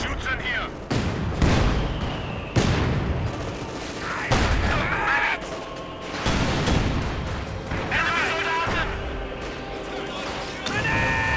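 Mortar and artillery fire in the video game Company of Heroes 2: repeated heavy booms and crashing impacts of a 1v1 battle, dense and loud, with a commentator talking over them.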